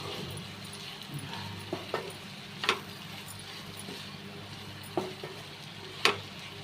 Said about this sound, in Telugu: కలుపుకొని కాసేపు కొబ్బరి కూడా బాగా వేగాలండి.